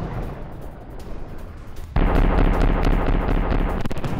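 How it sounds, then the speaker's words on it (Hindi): Loud sustained battlefield gunfire from heavy machine guns aimed at Ukrainian troops during a Russian attack, a dense rumbling barrage that jumps sharply in intensity about halfway through and stays heavy to the end, with no voices. "हैवी मशीन गन से यूक्रेनी फौज पर फायरिंग"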